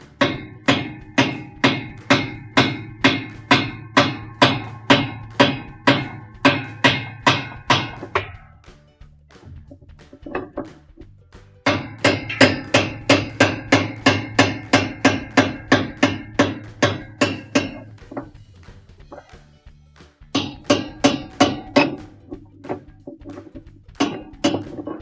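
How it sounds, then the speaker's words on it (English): Metal hammer taps strike the outer tub part of a washing machine to loosen it, fast, even bursts of sharp knocks with short pauses between the runs, close up and alone. "we're going to take the hammer and just tap it a couple of times to loosen it"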